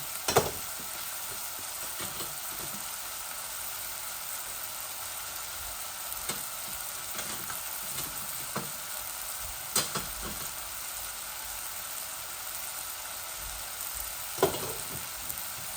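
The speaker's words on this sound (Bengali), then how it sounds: "শুটকি আর ইসাগুলা ভাজা হয়ে যাক আমার একসাথে" Dried fish and spices fry in a pan with a steady, quiet sizzle, broken now and then by brief clicks and spits, with no voices.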